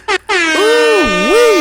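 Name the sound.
air horn sound effect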